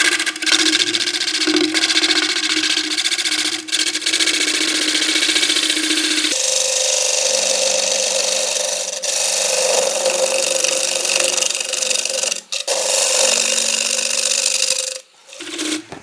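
Bowl gouges cut a closed-form wooden bowl spinning on a lathe, producing a loud continuous scraping rasp with a steady motor hum underneath and brief breaks as the tool lifts off the wood.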